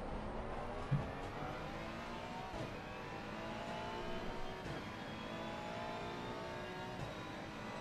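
A damaged BMW race car in a racing video game accelerates hard down the straight at the Red Bull Ring, its engine whining steadily through rising gears at a close, constant level with no talk.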